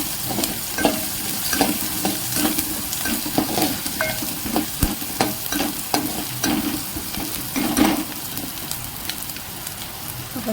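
Spices sizzle in hot oil as the tempering for homemade dal is prepared, a dense continuous crackle and hiss with sharp pops and occasional stirring clicks, with no voices.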